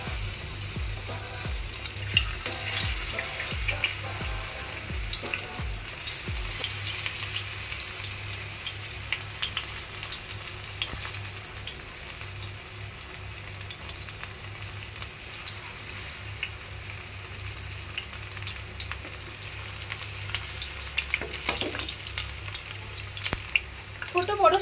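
Jackfruit shashlik skewers fry in hot mustard oil on a stovetop, a steady close crackling sizzle running throughout with occasional faint stirring or handling noises.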